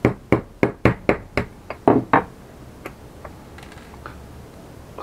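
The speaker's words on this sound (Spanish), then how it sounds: "Voy a hacer más agujeros alrededor." Holes being punched around a homemade alcohol stove: a quick run of about nine sharp, close taps in the first two seconds, then a few fainter scattered knocks over quiet background.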